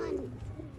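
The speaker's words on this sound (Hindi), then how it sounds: "ये चौधरी सही साहब वाला कबूतर है," A pigeon gives a brief low coo up close, soft and faint, in a short call with a little background noise.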